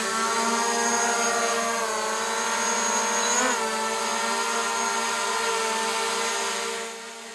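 A small drone takes off and hovers indoors, giving a loud, steady, high-pitched propeller whine that rises and wavers briefly mid-flight, then fades at the end.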